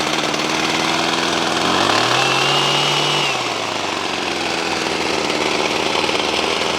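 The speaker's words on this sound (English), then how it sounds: "see how this is at an idle and the blades are still moving?" A Husqvarna/Redmax/Poulan hedge trimmer engine idles steadily and loudly up close, its small two-stroke drone briefly rising and dipping in pitch midway before settling back to a rough, buzzing idle.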